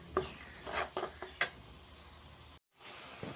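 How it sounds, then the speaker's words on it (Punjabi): Chicken and spices sizzle in desi ghee in a pot, a soft frying hiss broken by several sharp clinks and scrapes of stirring, then a brief dropout before the sizzle resumes. "ਇਹ ਹੁਣ ਜਿਹੜੀ ਤੁਹਾਨੂੰ ਸਰਰ ਦੀ ਆਵਾਜ਼ ਆਈ ਆ ਇਹ ਆਵਾਜ਼ ਇਹ ਤਕਰੀਬਨ 2 ਤੋਂ 3 ਮਿੰਟ ਤੁਸੀਂ ਸੁਣਨੀ ਹੈ"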